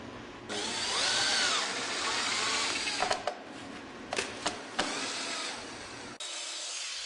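A power drill drives screws to fasten Trex Transcend rail support brackets to a deck post, a loud whirring run with rising pitch, several short bursts and clicks, then another steady burst near the end.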